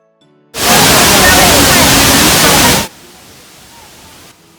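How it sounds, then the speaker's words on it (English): Boti waterfall in Ghana roars as a loud, dense broadband wash of falling water for a couple of seconds, then drops abruptly to a faint hiss. "This is Boti Waterfalls."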